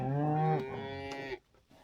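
Cattle in a breeding herd moo with one loud, long, harmonic-rich call lasting over a second, then fall quiet apart from faint farmyard background.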